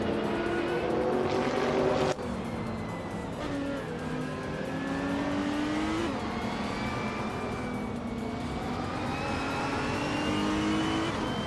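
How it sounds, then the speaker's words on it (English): LMP3-class race cars, including a 2010 Oreca FLM09, scream along in a racing video game, with engines rising and falling through gear changes, overlapping cars passing, and a brief tire squeal, all loud and continuous without speech. "Maldoxy FCEF is driving a 2010 Orica FLM in the L09 in the LMP3 class"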